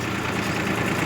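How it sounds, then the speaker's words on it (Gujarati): A Massey tractor engine runs in a steady, dense rumble, close and unbroken through a brief stretch, with no voices. "આ ટ્રેક્ટર મહિન્દ્રા ના મેસીનું ટ્રેક્ટર"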